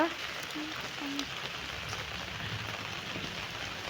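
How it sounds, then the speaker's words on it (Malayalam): Steady rain patters on a surface throughout, a constant wash of drops with a few faint tones near the start. "നിങ്ങളുടെ അവിടെയൊക്കെ ഇല്ലേ ഇതേപോലെ മഴ?"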